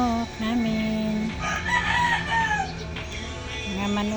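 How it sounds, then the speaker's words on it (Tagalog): Farmyard chickens and roosters crow and cluck nearby, with long drawn crows rising over a steady backdrop of clucking and rustle, no talk. "Ayan ang mga manok namin."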